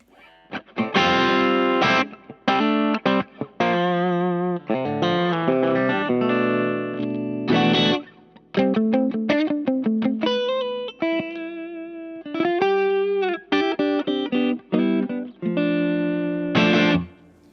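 An electric guitar through an MXR Duke of Tone overdrive pedal with the amp volume boosted plays chords and short riffs with a gritty, saturated tone, pausing briefly between phrases; no talking.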